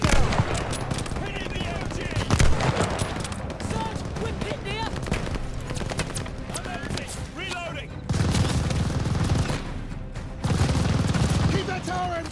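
Dense machine gun fire from a tower emplacement in the World War II shooter Call of Duty: Vanguard, rattling in continuous bursts with booms and shouted voices throughout.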